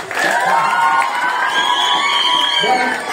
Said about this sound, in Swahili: Haya, makofi.